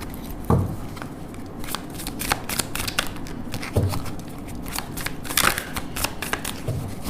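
Tarot cards being shuffled by hand up close, a run of quick crisp riffles and soft slaps with a few louder taps, continuing steadily throughout.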